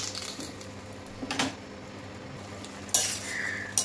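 A spoon scrapes and clanks in a pan of simmering potato, pointed gourd and soya chunk curry on high flame, a few brief metallic knocks over a quiet bubbling background.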